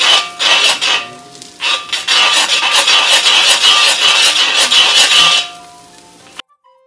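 A spatula scrapes and stirs egg being scrambled in a wok, a loud close rasping sizzle with brief pauses between strokes before it cuts off near the end.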